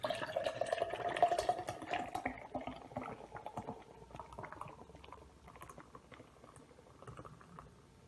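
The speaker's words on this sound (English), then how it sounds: "Beautiful pour," Modern Times nitro coffee coconut stout pours into a glass, a soft steady foaming hiss and liquid rush that slowly fades as the pour settles, close and fairly quiet.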